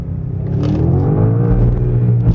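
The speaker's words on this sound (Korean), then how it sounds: "심지어 여기서 한 번 더 변속 스위치를 내려가지고 매뉴얼로 튀어나가 볼게요." A new BMW M5 plug-in hybrid with a V8 accelerates hard in manual mode, its loud engine roar climbing steadily in pitch through one gear, heard close from inside the cabin with no speech.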